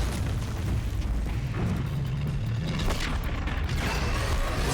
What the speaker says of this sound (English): It's on fire. Oh wow, exploded.